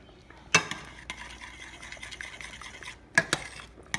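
A utensil stirs seasonings through chicken in a pan, producing close scraping and clinking with two sharper knocks against the pan and a steady soft scraping between them, no voices.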